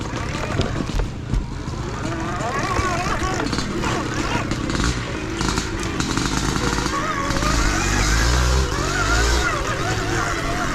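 Loud vintage gas motorcycles racing in an enduro, a dense, rough engine roar that holds steady and swells near the end, with voices mixed in.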